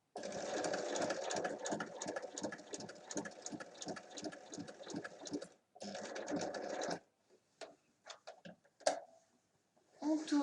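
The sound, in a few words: sewing machine stitching across a bag handle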